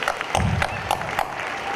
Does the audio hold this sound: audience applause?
yes